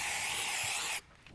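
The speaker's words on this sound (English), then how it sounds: "So we'll basically spray this on" An aerosol cleaner is sprayed onto an engine block during head gasket repair, giving one close, steady hiss for about a second that stops abruptly.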